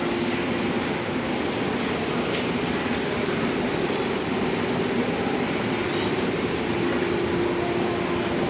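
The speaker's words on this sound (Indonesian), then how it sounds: "Nah itu ada kereta Bekasi Line ya Francis." A Bekasi Line KRL commuter train at Duri station in Jakarta, heard as a steady, loud rumble with a low hum throughout, continuous and even, with no talking.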